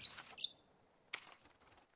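A small bird in a forest survival video game gives a couple of quick, high chirps near the start, then a brief burst of fainter tweeting after a pause, alone without talk.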